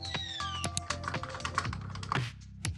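Rapid keyboard typing, close and crisp, with irregular clusters of key taps and a few heavier strokes, no talking.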